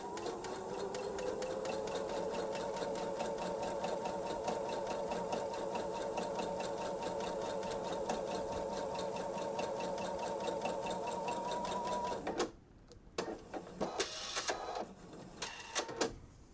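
A sewing machine runs steadily for about twelve seconds stitching a seam on a bench pillow, a continuous whirring drone close by, then stops abruptly and gives way to a few faint clicks and handling sounds.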